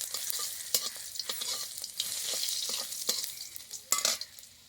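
Two whole dried red chillies and four or five crushed garlic cloves spit and sizzle in hot oil, with steady frying hiss broken by sharp scraping stirs every second or so, close up and with no voices.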